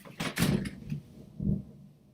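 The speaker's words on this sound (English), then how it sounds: "I'm going to open my door." A door being opened indoors: a couple of soft knocks and a sliding, rubbing rush, then a thump, fairly faint and close, with no voices.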